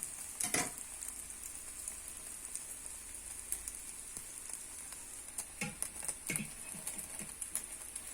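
Egg sizzles in a hot frying pan while chive pancakes are made, a steady crackling hiss with a few sharper pops and spatters over a constant high-pitched frying sound.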